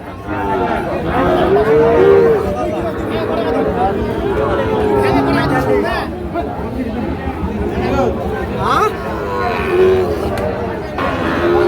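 Sahiwal cattle at a busy livestock market low repeatedly, several drawn-out moos rising over a dense crowd of chattering voices and market noise throughout.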